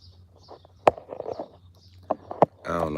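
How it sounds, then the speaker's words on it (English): A few scattered bird chirps outdoors, faint and brief, mixed with sharp taps and knocks and a short burst of louder noise at the end. "I like the sound of the birds."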